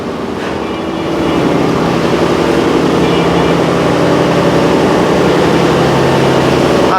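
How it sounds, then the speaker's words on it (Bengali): An Anglo-Belgian diesel engine turns the paddles aboard the paddle steamer PS Mahsud, a loud, steady low drone that swells after the first second and holds evenly throughout. "আর এ হলো Anglo Belgium engine diesel engine তো এই ইঞ্জিনটি মূলত প্যাডেলকে ঘুরায়"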